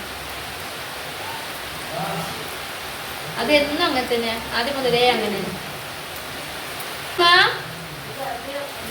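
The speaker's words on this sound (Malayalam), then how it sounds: "നല്ല മഴ കൂടുന്നുട്ടാ നല്ല മഴ പെയ്തോട്ട്" Heavy rain pours down outside, a dense, steady hiss that runs throughout while people talk over it.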